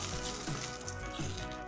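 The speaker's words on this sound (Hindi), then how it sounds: "तकरीबन 1 मिनट हम अच्छी तरीके से इन सारी सॉसेस को भूनेंगे।" Chicken 65 cooking in a pan with sauces, a low, continuous sizzle and faint stirring in a quiet kitchen.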